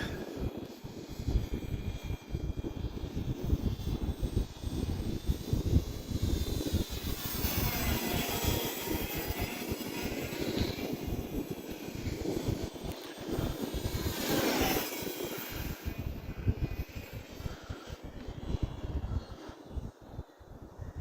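A radio-controlled Hobbyzone Carbon Cub S 2 1.3m model airplane engine drones overhead, its pitch rising and falling as it circles, moderately distant and steady throughout.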